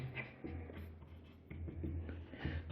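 Chalk or marker scratches across a classroom board during a geometry proof on lines and angles, a series of short strokes and taps close by, with no talk over them.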